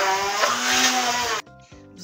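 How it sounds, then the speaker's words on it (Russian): A blender pureeing strawberries whirs loudly and steadily, then cuts off abruptly, followed by a brief, quieter second burst of motor noise. "Теперь мы ее взобьем блендером."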